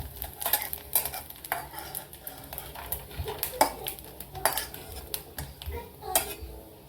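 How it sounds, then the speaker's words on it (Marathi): Grated fresh coconut being roasted in a pan, with a spoon scraping and clinking against the metal in irregular strokes, faint sizzle underneath and a few sharper clanks. "आता खोबरं लाल जरा असं भाजायचं"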